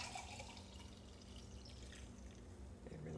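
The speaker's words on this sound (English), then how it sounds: "So I'm going to pour it in my cup." Frothy keto bulletproof coffee is poured into a cup with a soft, faint trickle and light dripping that continues steadily.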